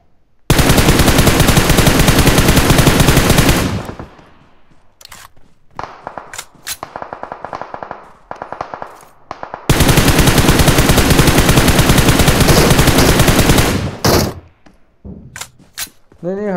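Long, loud bursts of automatic gunfire in a PUBG match, two sustained volleys with scattered single shots in between, while players talk over the shooting.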